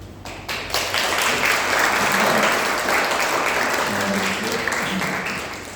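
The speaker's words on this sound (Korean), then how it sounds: "잠시만 일어나시면 우리 박수로 환영하겠습니다" A church congregation breaks into warm, sustained applause to welcome a visiting family. The clapping is dense and even, with many hands at steady loudness throughout and faint voices mixed in beneath.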